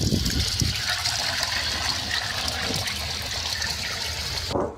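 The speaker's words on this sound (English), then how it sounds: "I'm just going to very lightly wash this stuff off." Water lightly trickles and splashes across the engine bay of an MK6 Volkswagen GTI, a steady close spray with a few heavier gushes early on, cutting off abruptly near the end.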